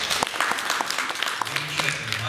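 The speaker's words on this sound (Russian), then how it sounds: "И мы аплодисментами провожаем нашу пару участников." An audience at a dance competition final claps steadily for a departing couple, a fairly close, even patter of applause, with a low hum entering near the end.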